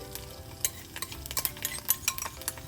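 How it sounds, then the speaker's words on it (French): Heated meat being spooned onto a microwaved rice bowl for loco moco, with scattered scraping and clinking of utensil against container, light taps and soft rustle at close range, no talk. "J'ajoute ma viande sur le dessus."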